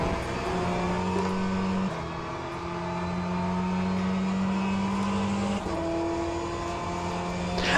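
Race car engine in the Le Mans Ultimate sim racing game, accelerating steadily through the gears. The loud, continuous drone climbs in pitch with a couple of shift breaks, and no voices are heard.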